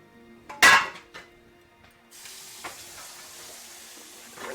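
A metal frying pan set down into a kitchen sink with one sharp loud clang and a smaller knock after, then running water starts and gushes steadily.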